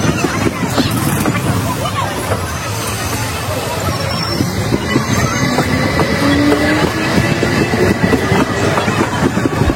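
A passenger train rolls loudly past close by near Barasat station, steady rumble and clattering wheels filling the air, while a crowd of people chatters underneath.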